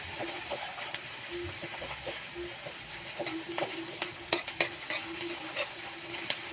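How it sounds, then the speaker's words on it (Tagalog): A spatula stirs cooked shrimp paste (alamang) in a pan, with soft sizzling and hiss under a few louder scraping clicks near the end. "Ayan, haluin natin."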